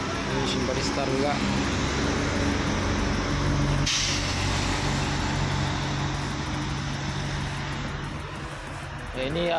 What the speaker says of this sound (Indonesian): Ya, ini ada bus Armada Indah.